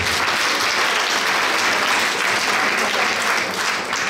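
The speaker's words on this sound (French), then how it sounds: "Bravo, on s'applaudit." An audience in a French-speaking training session applauds, a loud, even wash of many hands clapping that holds steady from start to finish.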